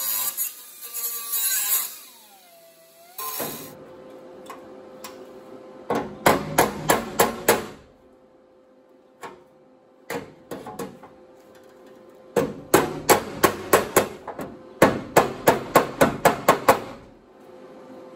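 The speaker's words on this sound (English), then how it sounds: "I'll be able to hammer and dolly and bring this up" A hammer and dolly straighten a rusted car body panel during rust repair, with bursts of rapid metallic taps in quick series separated by quieter pauses and a few isolated strikes, close and loud.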